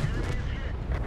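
A tank cannon firing in World of Tanks gameplay, one heavy booming blast at the start followed by rolling rumble, loud and close with a voice talking over it.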